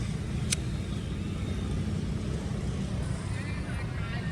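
A truck drives past at a rural Kudus village site set up for a ketoprak performance, its engine rumble holding steady and fairly close amid outdoor background noise, with a brief sharp high tone near the start and faint voices later.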